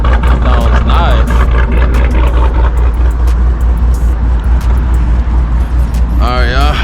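A Whipple-supercharged Jeep Trackhawk with a big cam rumbles loudly and steadily up close, its engine rising in revs near the end, with voices speaking over it.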